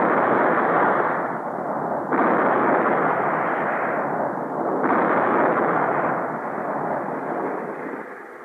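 Heavy booming ship's cannon blasts with long rumbling decay, two or three big reports rolling into each other, loud and dense.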